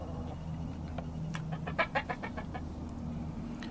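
Game fowl rooster making a short run of clucks and squawks in an outdoor yard, a few sharp calls bunched mid-clip over steady low background rumble.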